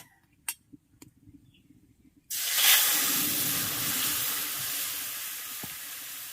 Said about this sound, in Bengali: এখন ডালটা দিয়ে দিচ্ছি